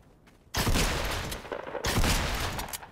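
Two loud, sharp pump shotgun blasts in Fortnite about a second apart, each a broad crashing burst that trails off with a noisy tail; synthetic and close.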